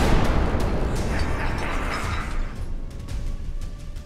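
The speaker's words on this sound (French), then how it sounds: "La bombe est lâchée," Loud, deep explosion rumble from a dropped bomb in a Spider-Man story, a broad booming blast that fills the low end and slowly decays over about four seconds, with no talk over it.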